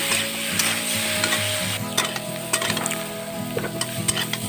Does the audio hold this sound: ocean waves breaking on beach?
no